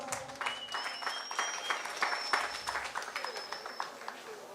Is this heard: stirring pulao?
no